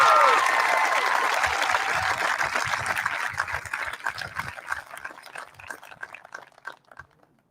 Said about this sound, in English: If you would give a nice round of applause, please, to Jade Elsa Albadovar.